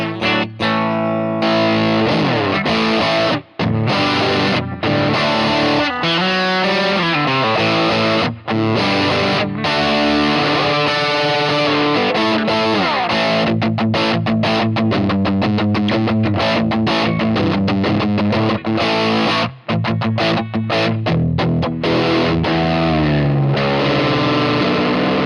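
Electric guitar through a TC Electronic Magus Pro distortion pedal into a Blackstar Debut 50R amp plays heavy, chuggy distorted riffs, loud and close with brief palm-muted stops and no talking.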